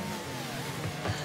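Car engine in the Rocket League video game, a steady low drone with a faint rising whine as the vehicle drives along without much speed, heard alone at moderate level.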